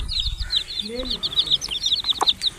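A hen clucks near small chicks while high, rapid peeping chirps run almost nonstop over the top, with a few low clucks and brief voices in the background.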